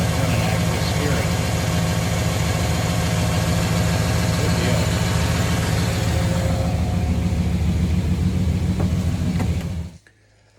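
A hot rod car engine idles close by in a steady, even rumble for about ten seconds, then fades out quickly at the end.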